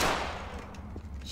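Gunfire in a video game: a sharp, broad burst right at the start that decays into a ringing, noisy tail, then fades to a low rumble.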